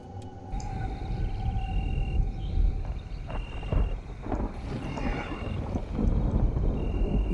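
Low, groaning dinosaur call in a horror game, a drawn-out moaning vocalization rather than a roar, rising and falling over a rumbling, windy ambient bed with no talk.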